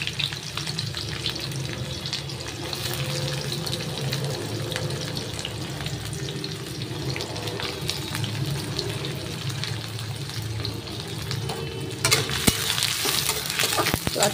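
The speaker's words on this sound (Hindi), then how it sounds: "हमारा प्याज फ्राई हो गया" Big chopped onion pieces fry steadily in a pan for potato and bean curry, a constant close hiss with faint stirring scrapes and a short rattling clatter near the end.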